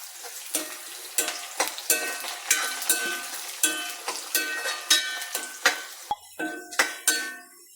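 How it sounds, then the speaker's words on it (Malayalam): Garlic and ginger fry in sesame oil, with curry leaves added, in a pan while lemon pickle is being made, a soft continuous sizzle broken by regular clinks and scrapes of a utensil stirring against the metal pan. "വെളുത്തുള്ളി ഇഞ്ചിയൊക്കെ പരുവത്തിന് മൂത്തു."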